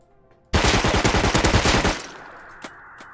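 In the video game Rust, a grenade launcher loaded with HE grenades lets off a loud, dense burst of rapid booming reports for about a second and a half, then dies away to a faint tail with a couple of small distant pops.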